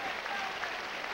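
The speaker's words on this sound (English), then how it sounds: "You hear the applause from the crowd." Crowd applause fills the gym at a 1996 Nebraska high school state wrestling championship, 171-pound bout, steady and continuous clapping at moderate distance throughout.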